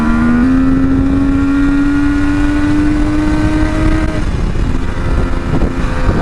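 A 500cc Kawasaki H1 B two-stroke triple motorcycle being ridden, its engine droning loud and close with a steadily rising pitch, then easing off as the note drops, under heavy wind rush.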